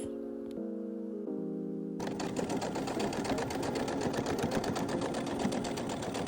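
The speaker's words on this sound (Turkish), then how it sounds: "Ceketimizin omuzlarını bu şekilde üst üste koyarak dikiyoruz." A sewing machine stitches the shoulders of a homemade denim jacket, first whirring in short bursts, then running steadily and close at a fast, even buzzing rhythm.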